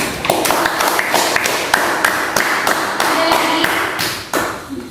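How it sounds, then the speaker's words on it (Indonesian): A classroom group claps hands in loose, uneven bursts of sharp claps, fairly close and loud, fading at the end. "tepuk tangan dulu"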